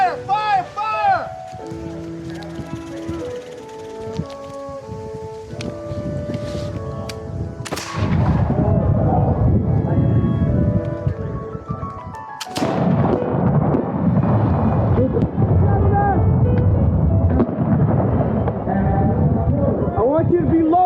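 Musket volleys in a Battle of Great Bridge reenactment skirmish: two loud, sharp ragged volleys of black-powder fire ring out over shouted commands, with scattered shots and rumbling echoes following.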